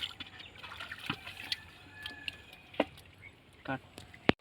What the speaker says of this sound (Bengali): মাছগুলো এখন ধোয়া হবে